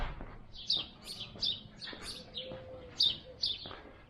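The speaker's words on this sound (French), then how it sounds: "Le chant des oiseaux qui nous accompagnent." Small birds give repeated bright chirps and short calls at Cap Ferret, a few fairly close bursts over a quiet outdoor background.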